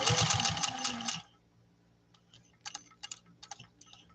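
A Centennial Singer 201-2 sewing machine runs in a dense mechanical burst for about a second, then gives a few quieter ticking, clicking handwheel turns.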